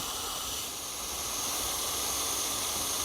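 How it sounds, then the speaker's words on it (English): A squirt of WD-40 sprayed onto a cloth for cleaning a BMW E31 tailpipe, heard as a steady close hiss lasting a few seconds. "Just a little squirt of WD-40 like that, that's all you need."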